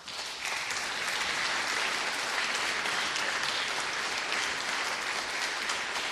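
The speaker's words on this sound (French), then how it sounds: "Pouvez vous applaudir déjà." Steady, dense applause from an audience at an Armistice Day commemoration, many hands clapping evenly for about six seconds at a moderate, consistent level without voices.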